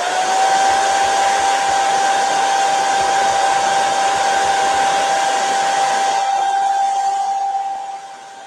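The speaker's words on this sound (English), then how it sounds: "Let me get my blow dryer back out." A hair dryer runs loudly and steadily with a whooshing, whining hiss, then its airflow drops off near the end.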